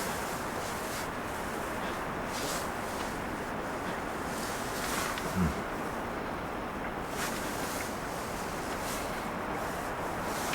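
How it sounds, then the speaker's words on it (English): Wind blows steadily at a snowy winter campsite, a continuous broad rushing noise with gusty buffeting against the microphone and a brief thump midway. "And the wind is still blowing, but not too violently."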